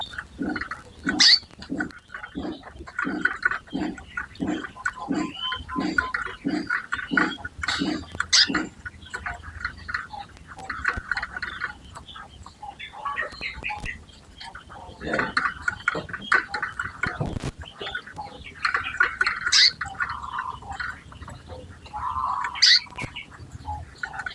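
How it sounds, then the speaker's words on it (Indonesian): A hoarse Scotch Fancy canary sings in raspy, hoarse bursts of chirps and trills, close by, with a person talking now and then between phrases. "ketika kenari ini teriak, ini sudah mulai terdengar"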